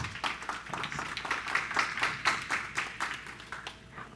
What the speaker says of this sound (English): please give a round of applause to Stephen and Grace